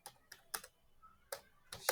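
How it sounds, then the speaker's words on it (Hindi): Typing on a computer keyboard at a desk, a few quiet, separate clicking keystrokes spaced unevenly, close but faint, with no speech. "यहाँ पे हम टाइप करेंगे"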